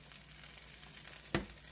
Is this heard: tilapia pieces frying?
yes